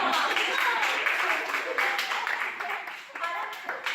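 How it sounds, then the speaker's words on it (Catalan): Audience applause, steady clapping from many hands that holds for a few seconds and gradually thins, with voices faintly underneath. "Ja que aplaudim."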